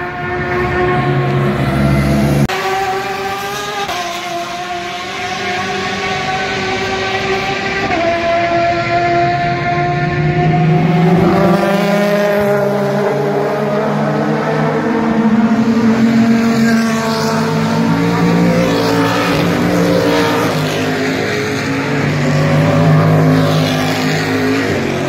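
A Porsche race car roars past during the Sebring 12 Hours endurance race, its engine note climbing in pitch as it approaches and then dropping away. The loud, sustained motor sound continues throughout with no talk.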